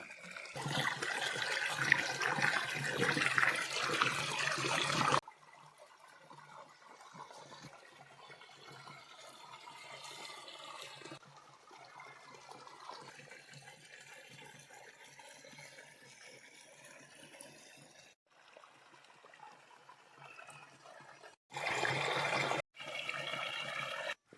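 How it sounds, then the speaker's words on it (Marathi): Water runs into a tin container from a tap or pipe, a loud steady gushing for about five seconds, then softer trickling and filling sounds, with brief louder bursts near the end. "मी या डब्यात रोज पाणी भरून ठेवत असतो"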